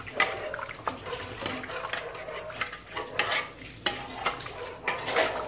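Gelatin being stirred in a tall pressure cooker pot, a spoon scraping and clinking against the metal in repeated uneven strokes with a faint liquid swish, close and moderately loud with no talking.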